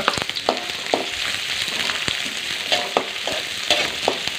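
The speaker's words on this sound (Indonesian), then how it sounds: "Sekarang kita tumis bawang bombay." Onions sizzle in a little oil in a pan for tempeh steak sauce, a steady frying hiss broken by regular scraping strokes of a spatula, close and alone.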